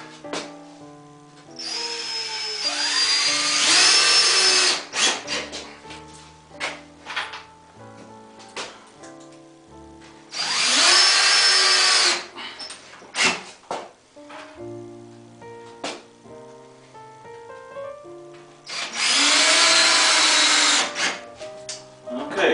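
A power drill drives screws into drywall, with three loud whirring bursts of several seconds each, separated by quieter knocks and handling sounds.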